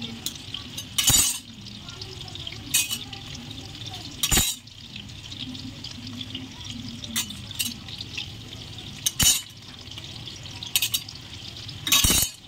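Chicken pakoras frying in oil for street-style spicy pakoda, with bursts of clinking and scraping against the pan over a steady bubbling hiss, repeating every few seconds.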